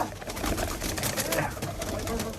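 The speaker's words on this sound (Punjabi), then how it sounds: "ਮਹਿੰਗੇ ਮਲ ਦੇ ਕਬੂਤਰ ਨੇ ਇਹ" Pigeons coo softly amid a busy, noisy background with people talking nearby.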